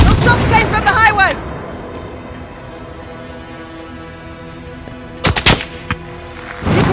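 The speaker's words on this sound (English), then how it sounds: "Those shots came from the highway!" Gunfire during a highway firefight in Call of Duty: Modern Warfare, with a quick cluster of sharp shots late in the clip after a voice speaks at the start, over a steady rain-like game ambience.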